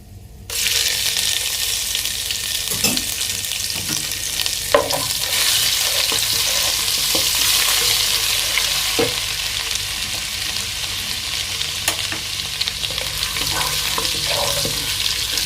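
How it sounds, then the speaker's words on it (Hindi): A spoonful of ginger garlic paste sizzles in a pan with softened vegetables, a steady close frying hiss broken by occasional stirring scrapes and clinks, with no talk. "अभी मैं इसमें डालने वाला हूँ अदरक लहसुन का पेस्ट 1 चम्मच"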